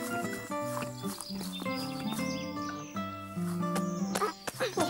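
Cartoon horse whinnies and neighs over bouncy animated music with clip-clop hoof sounds, continuous and fairly loud, a comic stylized rendering rather than a real animal.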